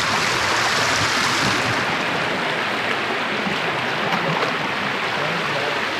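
Devkund waterfall in Maharashtra roars with a steady, dense rush of falling water, loud and unbroken throughout, with no voices.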